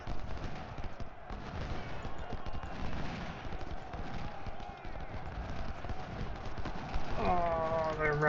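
Troops in the Ultimate General Civil War video game fire in a dense, continuous crackle of distant musketry and rolling volleys, with a voice speaking briefly near the end.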